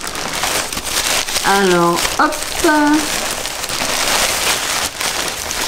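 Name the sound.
rustling plastic shopping bag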